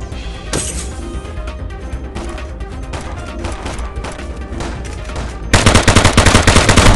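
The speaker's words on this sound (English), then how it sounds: "Shots!" Rapid gunfire from the mobile shooter game Killstreak.tv, a steady run of shots that bursts into a louder, denser automatic volley near the end.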